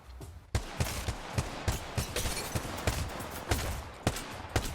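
Rapid bursts of weapon fire in the mobile shooter Apex Legends Mobile, sharp regularly spaced shots cracking at close range through a steady battle background, with no one talking.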